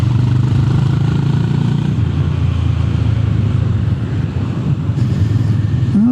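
Honda GB 350 S motorcycle ridden on the road, its single-cylinder engine a low, steady thrum under wind noise, rising slightly in pitch near the end as it accelerates.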